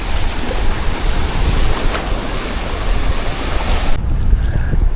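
Ocean waves break continuously on a beach at Hua Hin, Thailand, a loud, rushing surf mixed with wind buffeting the microphone, cutting off sharply near the end.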